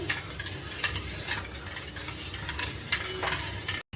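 Yogurt being stirred into mango puree for homemade mango curd, with repeated soft wet scraping and swishing strokes close by, steady through the clip with a brief cut near the end.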